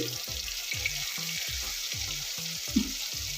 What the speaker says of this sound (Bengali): এবার দেবো এই পেস্টটা পেঁয়াজ কাঁচা লঙ্কা রসুনে একটু নুনটা দিয়ে দিচ্ছি